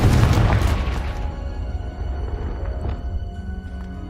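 Confringo spell from the Hogwarts Legacy video game detonating: a loud, booming blast at the start that decays into a rumbling, crackling tail with game ambience beneath.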